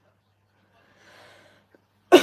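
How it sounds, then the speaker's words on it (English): A single sharp, loud cough bursts out near the end, close to the mic, after a faint rustle of paper being folded during a craft session. "Oh, I can't stop coughing now."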